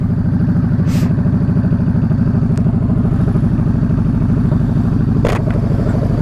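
A sport motorcycle engine, a Honda CBR, idles loudly and steadily up close, a constant throbbing rumble with a couple of brief sharp clicks.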